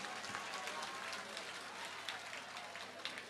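Audience applause at a Hindu temple consecration festival for a Hanuman temple in Gurugram, Haryana: a dense, steady wash of many hands clapping, fairly loud and continuous throughout, with crowd noise mixed in.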